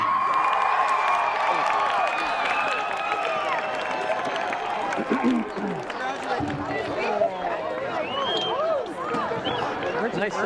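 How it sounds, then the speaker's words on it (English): A graduation commencement crowd cheers and whoops steadily throughout, dense and close, with shouting voices mixed into the roar. "Nice cheering, by the way, front row."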